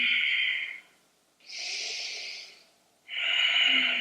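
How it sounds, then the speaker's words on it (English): Deep, full breaths during a yoga practice: a long exhale, a pause, a steady inhale, another pause, then a final exhale, each close and clearly audible with no talking. "Big full breaths."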